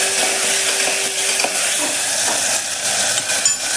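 Green chillies and tomatoes with curry leaves are stirred and fried in a pan for a farali snack, a steady loud sizzle with light scraping strokes of the spoon running throughout, no voices.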